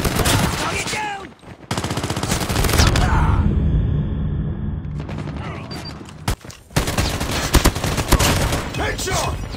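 Rapid automatic gunfire in a Call of Duty Mobile match, loud sustained bursts with dense volleys and short pauses, mixed with game explosions and shouted in-game voices.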